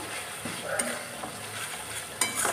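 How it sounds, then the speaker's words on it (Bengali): Poppy-mustard paste frying with onion in a pan, a soft steady sizzle with a few spatula scrapes and a light clink near the end, close and fairly quiet, no voices. "এটাকে কিন্তু নাড়াচাড়া করতে হবে নাহলে কিন্তু তলা দিয়ে পোস্ত আছে ধরে যেতে পারে"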